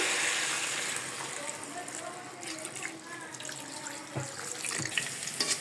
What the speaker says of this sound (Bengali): এবার আমি দিয়ে দিচ্ছি পানিটা।